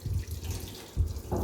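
Hands are rinsed under running tap water, with a close, short burst of gushing and splashing that swells in uneven pulses as the hands move through the stream.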